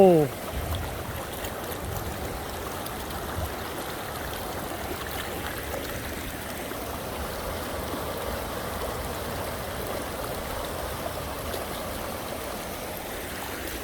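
Floodwater surges after two hours of heavy rain with lightning, a steady broadband roar of rushing flow that holds constant throughout, with a man's excited exclamations faintly over it.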